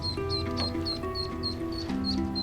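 A mother duck quacks repeatedly near a group of nine ducklings on a third-floor balcony, with steady high cheeping from the ducklings running underneath and a low background hum.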